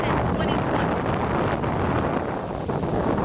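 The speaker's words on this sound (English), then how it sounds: "It's windy." Wind buffets a microphone outdoors in a loud, continuous rumbling roar with gusty surges, and no clear voice is heard over it.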